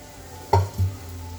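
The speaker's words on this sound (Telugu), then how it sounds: "ఆయిల్ మరిగిన తర్వాత ఉల్లిపాయలు, పచ్చిమిరపకాయలు, కరివేపాకు ఫ్రై చేస్తున్నా." Onions, green chillies and curry leaves dropped into hot oil for Andhra-style vankaya pulusu, two quick sizzling bursts with a clatter, close and brief against a quiet background.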